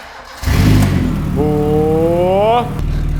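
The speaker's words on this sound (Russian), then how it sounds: "Как будто в тракторе такой звук прям." A Zhiguli car engine, running on leftover antifreeze diluted with water, starts with a loud, rough throaty roar like a tractor. It then holds a rising, whining rev for about a second before dropping back, recorded very close.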